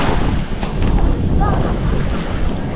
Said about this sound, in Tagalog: mag-aantay tayo ng hampas ng alon